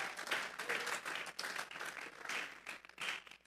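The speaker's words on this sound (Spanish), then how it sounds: "vamos a regalarle ofrenda de palmas al Dios de la gloria" A church congregation claps together in praise to God, a dense sustained round of applause at moderate volume filling the whole moment without any spoken voices.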